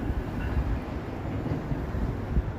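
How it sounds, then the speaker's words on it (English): An UP Express train passes in downtown Toronto on a wintry evening with snow flurries, a steady low rumble of rolling wheels mixed with wind noise, moderately loud and continuous, with no voices. "There's another train right there, another Up Express. That one's going into Union."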